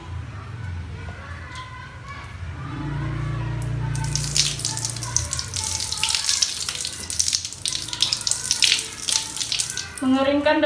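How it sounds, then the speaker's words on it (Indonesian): Tap water runs steadily into a sink as hands are washed in a clinical practice setting, a close gushing splash that swells and keeps going, with a voice speaking over it. "Cuci tangan di 7 langkah di bawah air mengalir."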